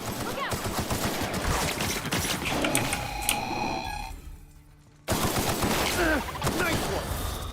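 Rapid automatic gunfire rattles out in dense bursts while shooting robots in The Outer Worlds, with a brief drop to near quiet partway through before the fire resumes just as loud.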